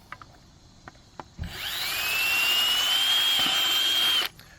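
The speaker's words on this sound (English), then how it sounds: "So we're gonna drill one here, and on the opposite side" A power drill whirs steadily for a few seconds, its pitch climbing as it bores holes through a plastic bucket, after some faint handling clicks.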